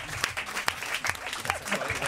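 A television studio audience applauds as the actor Claude Brasseur enters, a loud, dense burst of clapping with sharp individual claps standing out, continuous across the whole span.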